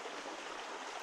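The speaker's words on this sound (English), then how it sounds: "Looks like there's a lot of water coming through it" A creek rushes with a lot of water, a steady, dense broadband flow filling the whole clip at moderate distance, with no voices.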